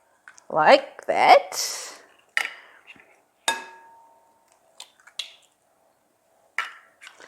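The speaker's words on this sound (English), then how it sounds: "we need 3 eggs, which we're going to crack" Eggs cracked for a carrot cake batter, a few sharp shell taps and wet squishy drips into a bowl, close by, with spoken words and clinks of glass in between.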